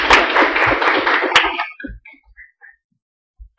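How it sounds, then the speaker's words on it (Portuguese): Audience members at a Christian program clap their hands in a short, lively burst that quickly thins out, leaving a few scattered taps and near silence. "Vai bater palmas"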